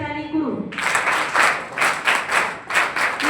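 A crowd at a 12th-grade board exam award ceremony bursts into loud, close applause for a student, a dense rolling clatter of clapping that follows a brief voice and pulses in waves.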